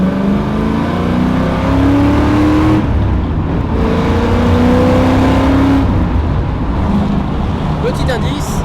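Ford Mustang Eleanor petrol engine revving hard, rising pitch sweeps climbing through the gears with brief dips between shifts, loud and close, with someone talking over it.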